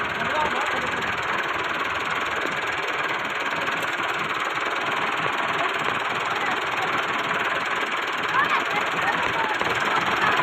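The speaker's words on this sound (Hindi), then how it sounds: "और फिर फाइनली हम लोगों ने ट्रैक्टर चलाया।" A loud, steady tractor engine rumbles continuously with a knocking diesel throb, close and unbroken throughout, in a Punjab village.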